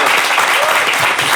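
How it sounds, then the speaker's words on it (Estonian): A short burst of audience applause at an Estonian comedy panel show, dense and fairly loud, with a voice faintly audible under the clapping. "teeme Joelile ja Sanderile ka väikse aplausi"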